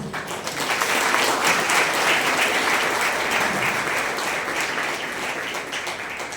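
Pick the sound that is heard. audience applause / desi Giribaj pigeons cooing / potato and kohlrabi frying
audience applause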